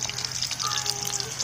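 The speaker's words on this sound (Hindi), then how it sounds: "तो प्याज का तड़का लगा देती" Chopped onion for a tadka hisses and sizzles in hot oil in a home kitchen, a steady close frying crackle lasting a brief moment.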